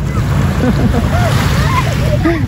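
Sea waves washing onto a beach, a steady broad surf wash with wind buffeting the microphone, while children shout and talk excitedly over it.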